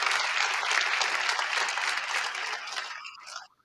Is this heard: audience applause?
yes